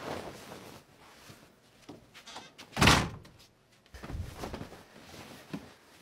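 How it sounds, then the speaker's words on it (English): A single door closes with one dull, solid thunk near the middle, standing out from quiet room tone and faint rustling. "Hey, close the door!"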